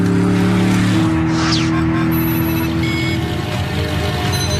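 A Gumpert Apollo supercar, its front bodywork covered, runs on a 1.5-mile runway test track. A loud, sustained engine drone shifts pitch about a second in, with tire noise and no voices.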